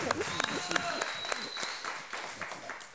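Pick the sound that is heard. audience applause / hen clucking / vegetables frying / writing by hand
audience applause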